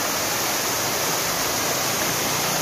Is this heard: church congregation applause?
no